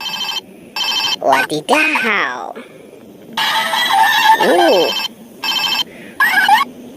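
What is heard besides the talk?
Hello Kitty toy telephone ringing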